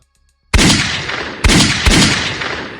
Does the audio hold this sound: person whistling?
no